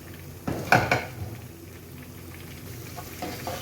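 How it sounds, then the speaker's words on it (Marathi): A metal lid lifted off a cooking pot of prawn biryani gives a couple of close clanks, followed by a soft, steady simmer. "आता झाकण काढून घेऊया"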